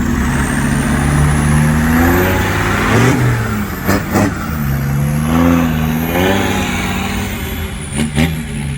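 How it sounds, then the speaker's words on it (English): A 4x4 with a turbo revs up close at a vintage vehicle event at Scone Palace in Scotland, its engine swelling and dropping in repeated surges while another engine idles in the background. "But this 4x4 sounds absolutely amazing."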